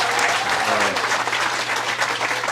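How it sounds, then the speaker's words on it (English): Audience applause at a harness racing Hall of Fame induction ceremony, a dense, sustained crowd clapping with a voice briefly heard early on. "So give yourself an applause."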